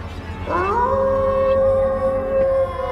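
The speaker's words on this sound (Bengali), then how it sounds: "দূরে কোথাও শেয়াল ডেকে উঠল" A drawn-out jackal howl rises at first and then holds steady on one long wavering note for a couple of seconds, sounding clear and alone against a faint night background of crickets.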